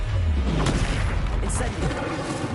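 A Confringo spell explosion in Hogwarts Legacy, a deep booming blast with rumbling low end and a few crackling bursts, set against steady game background noise.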